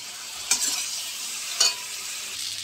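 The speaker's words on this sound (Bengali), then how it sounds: "লঙ্কার গুঁড়ো, নুন, হলুদ আর টমেটো দিয়ে মশলাটা ভালো করে কষাবো" Spice paste cooking in a pan with chili powder, salt, turmeric and tomato, a soft steady sizzle broken by two louder scraping stirs of a spatula, no voices.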